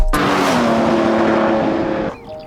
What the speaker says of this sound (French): je roule en Jaguar Type Lightweight de 1962